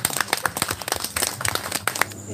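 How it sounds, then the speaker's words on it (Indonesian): Audience clapping at a talk event, fairly sparse and uneven claps rather than a full ovation, with some background voices mixed in. "Beri tepuk tangan."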